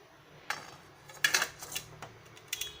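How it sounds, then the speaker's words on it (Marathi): A metal strainer set down on a metal wok: a handful of sharp clanks and rattles, close by, spread unevenly over a few seconds. "आता यावर आपण ही चाळण ठेवणार आहोत"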